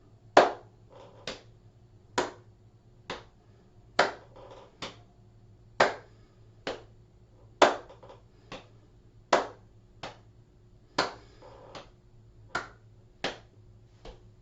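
Hands clap in an exercise class for older adults, giving sharp, evenly spaced single claps, about two every second, loud and close over a quiet low hum.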